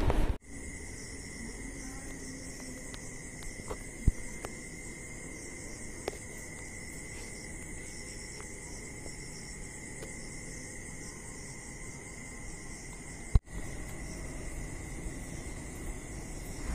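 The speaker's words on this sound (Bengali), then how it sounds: "কিভাবে সব ঝিঝি পোকা ডাকছে" Crickets chirp at night in a steady, unbroken drone of high shrill trilling that holds from start to finish, with a few faint clicks and light rustles beneath.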